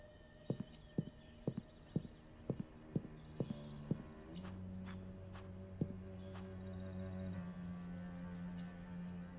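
Horse hooves clip-clop in the Black Mirror 2 video game: about ten crisp, evenly spaced steps close by, then a sustained tonal drone with a few sharp clicks.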